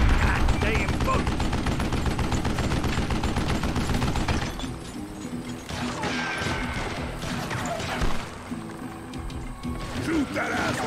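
Rapid gunfire and heavy impacts from the Western shooter Call of Juarez: Gunslinger, loud dense bursts of shots with crashes and mechanical clatter, thinning into scattered shots later, with someone talking over it.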